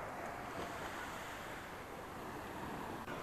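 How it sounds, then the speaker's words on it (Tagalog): Large ocean waves crash and surge toward shore under steady wind noise, a continuous loud broadband roar with no pauses or talk. "Ang laki ng alon."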